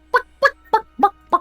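A person imitates a chicken with five short, evenly spaced, throaty clucking calls, close and loud, with no other talk.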